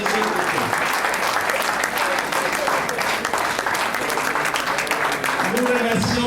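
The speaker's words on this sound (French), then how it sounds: "stand up, we're going to applaud for you" A crowd at the official inauguration of a Congolese community gathering in Washington, D.C. applauds loudly and continuously, with voices mixed into the sustained clapping.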